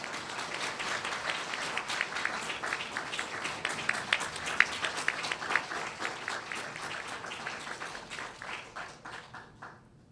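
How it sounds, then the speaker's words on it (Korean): An audience at a forum applauds to welcome a speaker: a dense, sustained burst of clapping that holds steady and then tapers off over about ten seconds. "강기갑 강사님을 큰 박수로 모시겠습니다"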